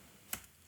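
A single sharp keystroke on a computer keyboard while entering a command at a terminal, one short click standing alone in a quiet room.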